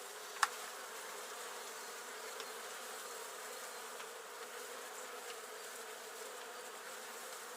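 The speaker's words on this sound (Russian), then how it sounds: "Красиво, хорошая пчела такая вот." Honeybees buzz at a bee farm in spring, a dense, steady drone of many insects close by, continuous throughout with one sharp click near the start.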